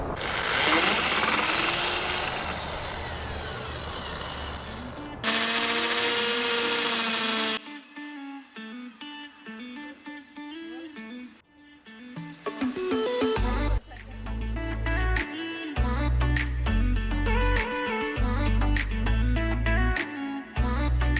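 A power drill whines in bursts, then a series of drilling runs into a wooden shelf with pauses between, steady and close, with musical tones running underneath.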